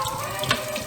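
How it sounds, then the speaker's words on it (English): Cold tap water runs steadily over freshly cooked pasta in a kitchen sink, a continuous close splashing hiss with a brief louder splash midway and no talking. "we're going to run them under cold water to stop the cooking process"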